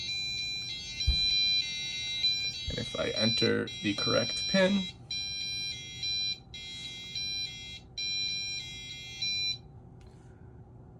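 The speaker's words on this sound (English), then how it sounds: "since it was within 15 seconds, the alarm turns on." A loud electronic security alarm, triggered by tampering, wails in repeated pulsing bursts, with a person briefly talking over it partway through.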